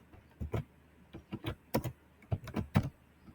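Close, dry clatter of keys being typed on a computer keyboard while writing code, in short irregular bursts of keystrokes with brief pauses between them.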